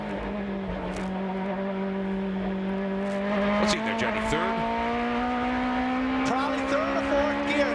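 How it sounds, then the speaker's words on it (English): GT2-class race car at the 2003 SCCA National Championship Runoffs, heard from an in-car camera as it crests a hill with wheel spin: a loud, steady engine drone with gear shifts and rising revs, a voice talking over it. "listen for the wheel spin right now as he's coming over the hill"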